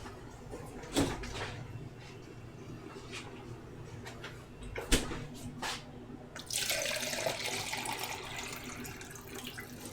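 Kitchen tap turned on and water running into a sink while roasting pork, starting after a few clunks and knocks and then flowing steadily and fairly loud to the end.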